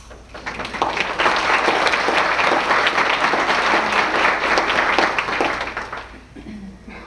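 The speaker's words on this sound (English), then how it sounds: "give them a round of applause" Sustained crowd applause at a 2015 NABOR awards ceremony, dense clapping rising quickly, holding steady for about six seconds, then fading out near the end.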